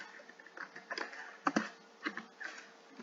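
Keys on a computer keyboard are tapped in a short, uneven burst of soft clicks, close and quiet, with a slightly louder cluster of strikes midway.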